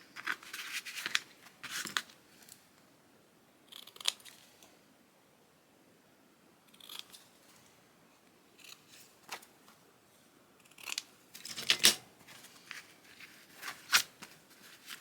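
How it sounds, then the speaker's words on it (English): Scissors snip the corners of decorative paper on a handmade hardcover journal cover, a series of short, crisp cuts and paper rustles spaced irregularly with quiet gaps between, close and fairly soft. "Now I'm going to trim off just a little bit on the corners"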